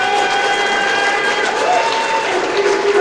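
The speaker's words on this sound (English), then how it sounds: "You all can give yourself a round of applause." A crowd applauding after reciting a pledge together at an event, loud sustained clapping mixed with murmuring voices and a few tonal lines, filling the whole moment.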